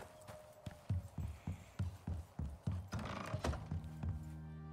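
Horse hooves clip-clop in a steady walking rhythm in the survival video game Icarus, with a brief whinny partway through. The sound is fairly faint and comes from a short distance.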